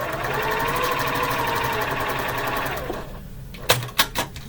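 A sewing machine runs steadily while stitching a quilt seam, a continuous rapid whir for about three seconds, then stops and gives a few short, sharp clicks and knocks.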